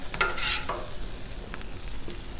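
Greasy hash browns frying on a 36-inch Blackstone griddle, with a few sharp metal spatula scrapes at the start over a continuous close sizzle; no talk.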